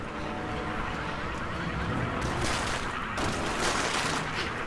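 Dense, continuous gunfire from the video game Resident Evil 6, a loud unbroken roar of shots and impacts with no pauses.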